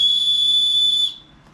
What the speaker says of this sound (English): So this actually has a little whistle.